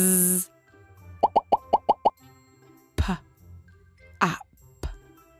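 A voice imitates popping sounds with a quick run of short, crisp pops, followed by a few louder spoken pops in a children's reading lesson.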